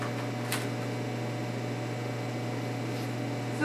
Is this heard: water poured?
no